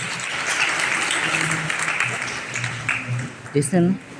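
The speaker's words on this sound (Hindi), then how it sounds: "एक बार जोरदार तालियों से श्री बाबा जी का स्वागत करें" Applause welcomes a guest at a sannyas initiation ceremony in Wambori, a steady crowd of clapping at moderate distance with a voice over a public address system on top.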